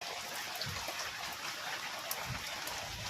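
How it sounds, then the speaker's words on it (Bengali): Steady rain patters down with a constant soft hiss and scattered drips, fairly quiet and even throughout, with no voices. "কিরম বন্ধুরা বৃষ্টি হচ্ছে"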